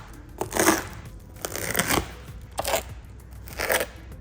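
Carbon fiber diffuser parts for a BMW E60 M5 being unwrapped, a few short crinkling, scraping bursts of packaging spaced irregularly, close and fairly quiet.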